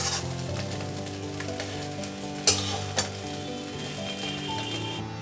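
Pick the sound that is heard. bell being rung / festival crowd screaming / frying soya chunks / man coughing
frying soya chunks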